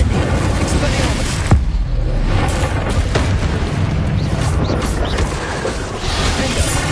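Confringo and Incendio spell blasts in Hogwarts Legacy: loud, dense booms and crackling bursts stack over a constant roar of combat noise, with sharp hits punctuating the din.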